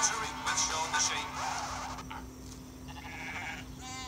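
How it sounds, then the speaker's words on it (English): Sheep bleat in a Shaun the Sheep trailer, a few loud, near bleats early on, then softer bleating and animal calls over a faint steady hum. "Here comes everyone's favorite farm animal, Shaun the Sheep"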